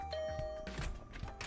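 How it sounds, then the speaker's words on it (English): A doorbell in the video game The Hundred Line: Last Defense Academy gives a single sustained chime tone over soft low game ambience, followed by faint clattering thuds. "I rang the bell by the side of the door."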